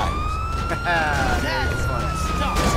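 A wailing police siren in Grand Theft Auto V sweeps up and down over a steady background hum, fairly loud and continuous with game-like sound effects layered around it.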